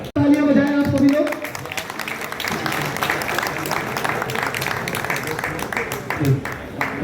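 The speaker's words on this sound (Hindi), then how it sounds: "तालियां बजाएं आप सभी लोग।" A crowd at a Burari residents' welfare association gathering claps steadily for about seven seconds. The applause is dense and sustained, with a brief tonal voice or music at the very start.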